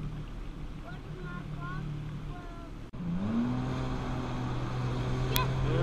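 A jet ski engine idles on open water in the Gulf of Mexico, a steady low drone with a rising pitch sweep midway, close by, with people talking over it.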